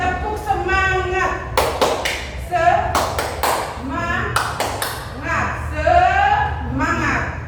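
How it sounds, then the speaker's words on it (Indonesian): Classroom of pupils doing a rhythmic 'tepuk semangat' spirit clap: several sharp, evenly patterned bursts of group clapping mixed with a teacher's and children's chanting voices. "Contoh begini, tepuk semangat."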